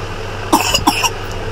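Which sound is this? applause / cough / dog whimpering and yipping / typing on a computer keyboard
cough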